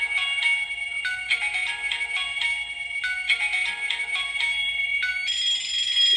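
A dual kitchen timer's alarm rings continuously, a bright repeating electronic beeping pattern, fairly loud and close, with no talking.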